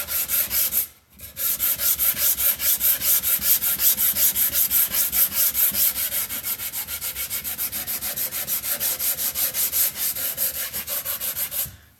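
Wood being hand-sanded with 150-grit sandpaper for a book box, a close, steady back-and-forth rasping in quick regular strokes, broken only by one short pause near the start.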